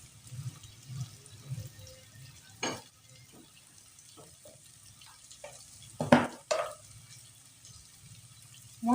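Chillies and a sliced tomato dropped into hot oil in a pan, giving soft intermittent frying sizzles with a few louder splattering bursts and pan clatters, fairly quiet and close, without talking.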